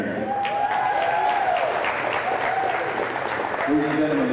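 A gym crowd applauds for the Sterling Lady Knight senior girls' volleyball players, steady broadband clapping throughout with voices and faint cheers mixed in.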